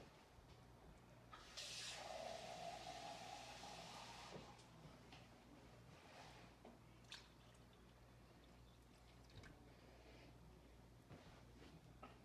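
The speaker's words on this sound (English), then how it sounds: "I'm gonna add a little bit more water to it." A little more water poured into a pot of homemade chili, a faint, short pour lasting a few seconds, followed by scattered soft drips and small kitchen sounds, with no speech.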